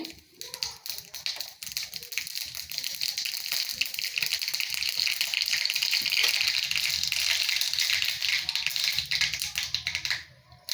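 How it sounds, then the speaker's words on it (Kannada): Mustard seeds splutter in hot oil for a curd raita tempering, making a dense, close crackle of rapid pops that builds and holds steady before cutting off abruptly. "ಸಾಸಿವೆ ಸಿಡಿಲಿ"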